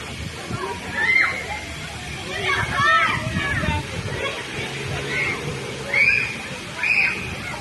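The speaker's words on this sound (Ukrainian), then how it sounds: "дітлахи бавляться під струменем води, який сильно б'є у небо" A strong jet of water bursts from a broken pipe on a Dnipro street and shoots skyward. It makes a constant rushing, sloshing hiss while children play under it and shout and chatter in short bursts.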